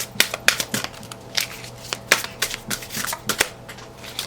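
A deck of cards is shuffled close by in quick, rhythmic riffles of crisp snapping bursts over a faint low hum, with no voices.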